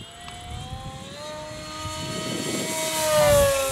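A Durafly Goblin Racer 820mm EPO RC airplane zooms by fast, its electric propeller whine rising in pitch and swelling louder as it approaches, over gusty wind noise.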